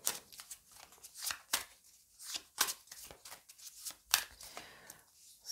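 Tarot cards are shuffled and handled up close, giving a quick series of crisp riffling and slapping bursts with brief gaps between them and no voices.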